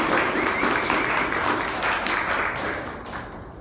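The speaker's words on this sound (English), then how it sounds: "Let's get a round of applause for Jason." An audience applauding for a speaker named Jason, dense loud clapping that holds steady and then slowly thins out, with no talk over it.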